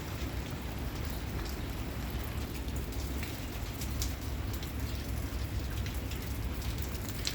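Steady April rain falls on a walk through Istanbul's old streets near Topkapi, an even, continuous patter of drops on paving and surfaces at moderate loudness, with no voices.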